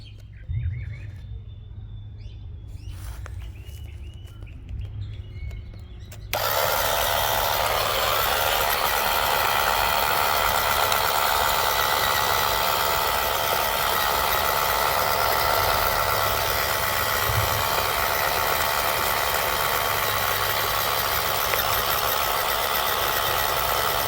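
Cordless Ukoke rotary tiller running steadily and loudly close by after a brief quiet start, a sustained motor whine with broadband churning noise that continues unbroken to the end.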